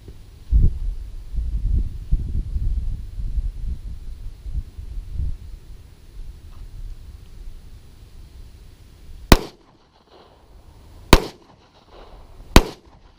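Ruger LC9S Pro 9mm single-stack pistol fired outdoors: three sharp, loud shots spaced a second or more apart. They come after a stretch of low rustling and handling noise.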